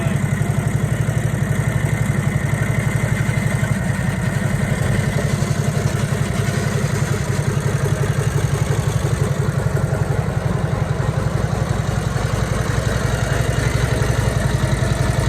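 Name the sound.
1957 Harley-Davidson Servi-Car engine idling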